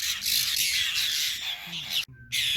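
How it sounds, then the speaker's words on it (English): Apostlebirds calling on Mt Lewis, harsh squawking and chirping calls over a constant high hiss of insects or bush ambience, with a brief dropout near the end. "Just coming across some secret apostle bird business"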